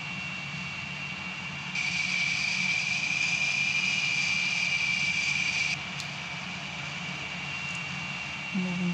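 A MiG-19 jet taxiing toward the runway in the game Gunship 3, its engine droning steadily with a high whine that swells midway, then eases back.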